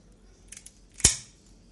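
Scissors cutting the fins off a fish, a couple of faint snips followed by one sharp, close crunching cut, all against a quiet background.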